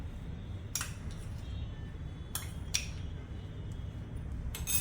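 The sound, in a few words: mixing soaked semolina in a bowl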